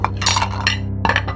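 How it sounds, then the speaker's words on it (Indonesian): Plates and glasses clink and clatter in a kitchen in quick bursts, a busy jumble of ringing knocks with a short pause before another rattle. "Kok kayak suara piring sama gelas lagi tawuran di dapur bawah?"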